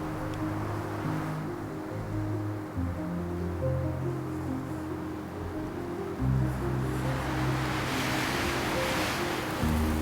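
A big gust of wind roars across the microphone during a spring bear hunt, a steady, broad rushing sound that swells and fades in waves over about ten seconds, with no talk.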